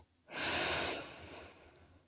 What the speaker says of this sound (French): Prendre une grande respiration ici